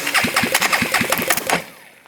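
A Honda TRX400EX ATV engine cranks over during a compression test, giving a rapid, loud, rhythmic chugging for about a second and a half before it spins down and stops.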